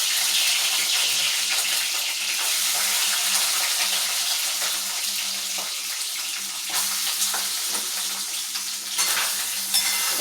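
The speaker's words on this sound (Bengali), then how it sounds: "এইবার আমি জল চিপে চিপে চিপে চিপে আমি এরকম করে ভেজে নেব সয়াবিনগুলোকে।" Boiled, squeezed soybeans fry in hot oil, giving a continuous loud sizzle and crackle with occasional stirring scrapes, close up and without talk.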